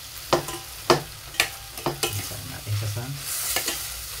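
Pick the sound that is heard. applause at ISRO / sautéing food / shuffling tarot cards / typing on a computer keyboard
sautéing food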